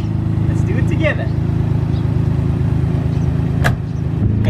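A 1995 Nissan GT-R R33 with many upgrades drives on the road, giving a steady, loud engine and road drone from inside the cabin. A few faint clicks and rattles sit over the constant hum.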